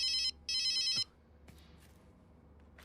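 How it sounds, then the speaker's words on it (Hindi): A telephone rings twice in short bright electronic bursts, close and loud, then falls quiet apart from faint background noise. "फोन बज रहा है तेरा?"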